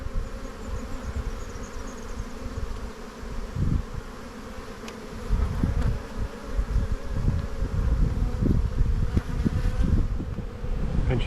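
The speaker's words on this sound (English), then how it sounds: "A lot of nurse bees, a lot of young bees" A close, constant hum of many honeybees buzzing together in a hive, swelling louder partway through, with occasional bumps and rustles.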